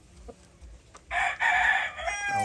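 A Kelso sweater gamefowl rooster in a backyard breeding yard lets out one loud, close crow of about a second, with faint clucks and background noise before it.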